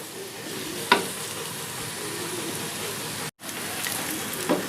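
Ingredients sautéing in a pan for Punjabi-style mutton chaanp masala: a steady, close sizzle and crackle runs throughout, with a couple of spoon clinks against the pan and a brief dropout midway.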